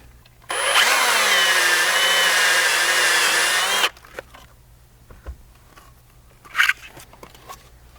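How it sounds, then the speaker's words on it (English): A step drill bores a 1/2-inch hole through a Toyota Sequoia rear window MOLLE panel, a loud steady whine lasting about three and a half seconds, followed by light tapping and handling noises. "Now for that, I'm just going to use a step drill."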